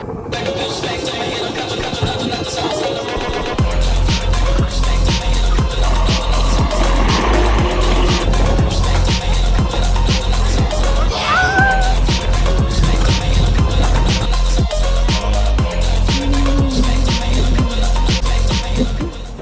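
Small ride-on cars at an amusement area run along with a loud, steady mechanical rumble and rhythmic clatter under music, continuous and close throughout.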